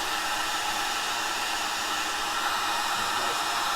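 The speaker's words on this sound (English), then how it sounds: "Got to get the heat gun hot." A heat gun blows hot air steadily while softening material during restoration of a barn-find Polaris 500, a loud, constant broadband hiss that holds even throughout with no talking.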